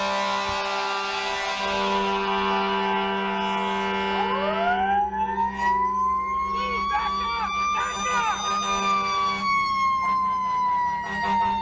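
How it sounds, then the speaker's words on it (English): A fire truck's siren blaring as it rushes to an emergency, a rising and falling wail over a steady engine drone and horn-like tones, heard close and loud with a brief voice in the mix. "A fire truck was rushing to an emergency, sirens blaring"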